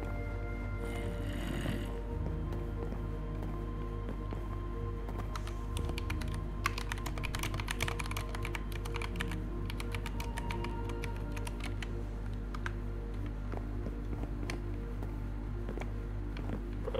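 Someone types on a computer keyboard in continuous, rapid clicking bursts over a low steady hum, fairly close and without talk.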